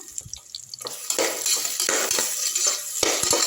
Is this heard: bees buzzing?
no